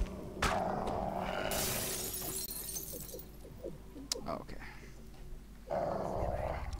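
Dogs growl and snarl in the fantasy video game Dungeons and Dragons Online, with sharp game effects like a shattering crash near the start and a bright burst again near the end, a player talking over parts of it.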